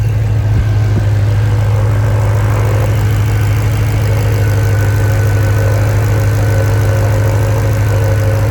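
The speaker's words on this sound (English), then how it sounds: "So you can hear those injectors make a distinct sound that's a bit different to normal ones." A Range Rover V8 running on LPG idles close by in a steady, even drone, with light injector ticking possible beneath the engine note; no one speaks.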